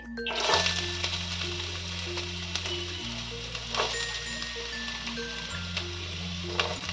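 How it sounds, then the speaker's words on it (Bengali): Carrots frying in a pan of hot oil for a winter vegetable dal, a steady close sizzle running throughout with a few stirring scrapes, under a quiet background musical tone. "এবার আমি সবজিগুলোকে একে একে ভেজে নেব প্রথমে আমি গাজরগুলোকে দিয়ে দিচ্ছি"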